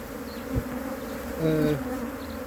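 Honey bees buzzing steadily close by, a droning hum that swells briefly as one passes near.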